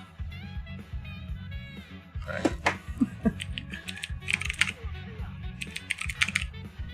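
Computer keyboard keys are tapped rapidly during a Pocket Fighter game, with bursts of clicky presses in quick, uneven runs over game music and effects.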